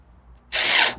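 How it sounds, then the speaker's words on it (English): A power drill whirs loudly for about half a second as it drives a screw into a wooden crosscut sled, following a quiet stretch. "Put some screws in."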